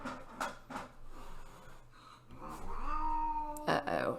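A house cat meows several times nearby, short cries followed by a longer drawn-out wavering meow that ends in a louder yowl.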